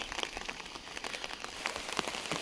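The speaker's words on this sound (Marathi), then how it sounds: "हा बघा विषय काय केलाय पावसाने पूर्ण जाम केलाय" Steady monsoon rain patters densely on a hard surface by a creek, close and continuous, with scattered sharper drops and no voices.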